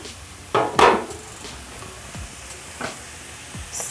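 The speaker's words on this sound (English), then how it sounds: "I'll add coriander stems into my pan." Coriander stems dropped into a hot pan with onions, a sharp burst of sizzle and clattering of the stems against metal, followed by quieter scattered stirring scrapes.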